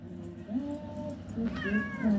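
An older indoor house cat meows close by, giving a couple of short, slightly complaining cries in quick succession in a quiet room.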